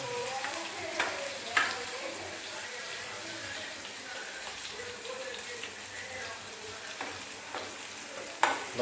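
Fish and garlic are stirred as they fry in a pan for a village-style fish recipe. A soft, steady sizzle carries a few faint clinks of the utensil, heard close and fairly quiet.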